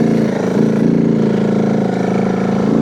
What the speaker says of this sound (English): You'll hear me rev the motorcycle up, trying to clean it out.